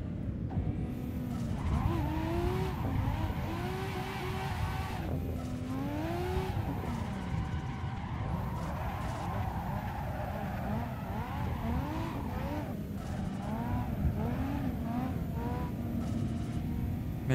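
Simulated car in Assetto Corsa, driven with a handbrake mod on a Logitech pedal, lets out repeated tire squeals and skids over a constant engine roar, the screeching rising and falling in bursts throughout.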